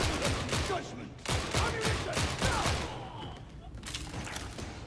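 Enemy gunfire in a shooter video game, dense overlapping shots and crackling volleys, loud and close at first, easing slightly before a final burst, with a voice talking underneath.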